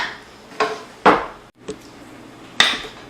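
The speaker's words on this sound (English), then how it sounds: "I'm ladling our mushroom mixture into the blender." Hot mushroom soup mixture ladled into a blender, with a few distinct clinks and scrapes of a ladle against pot and blender jar, spaced out with quiet gaps between them.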